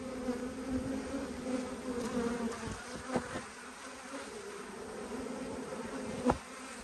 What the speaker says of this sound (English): Obviously there's plenty of bees.